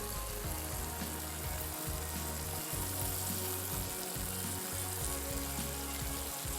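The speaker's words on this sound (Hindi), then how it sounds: "अब इसको अच्छे से हमने भूनना है" Beef pulao ingredients fry in a pot with a dense, continuous sizzle, steady and close throughout, with occasional low stirring knocks and no voices.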